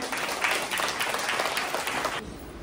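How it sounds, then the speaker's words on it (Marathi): Loud, steady applause from an audience at a school computer-room inauguration ceremony, dense clapping sustained for about two seconds before easing off. "जोरात टाळ्या होऊन जाऊ दे"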